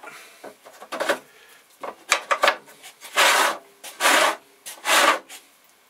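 Trimming a clay pottery bowl with a tool produces close, repeated rasping scrapes in short bursts, some longer strokes toward the end, with quiet gaps between.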